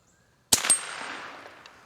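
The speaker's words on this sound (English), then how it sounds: "let me shoot at that target again" A single sharp crack from an old .22 firearm loaded with Sellier & Bellot CLUB rounds, followed by a second report close behind and a long ringing decay outdoors, heard close and loud with no talking.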